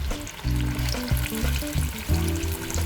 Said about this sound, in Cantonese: 唔好喐佢，俾佢炸3-4分鐘。